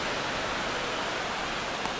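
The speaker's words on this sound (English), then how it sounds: "This rain is not letting up." Rain falls steadily on a baseball stadium at a Brewers–Yankees game, a dense, even hiss of drops that stays constant and fairly loud.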